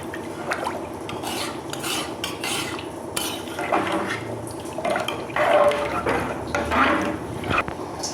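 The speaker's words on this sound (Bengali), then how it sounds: "জলটা দিয়ে আর একটু ভালো করে নাড়িয়ে নেব।" A spoon scrapes and swirls through rice and water in a metal pot while pulao is being made, giving a continuous wet stirring sound with clinks against the pot's sides and gentle sloshing, close and fairly loud.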